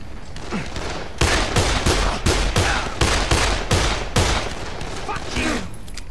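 Gunfire in the video game Dead Island comes as a series of about ten sharp, evenly spaced shots. The shots are loud and close, with little else audible between them.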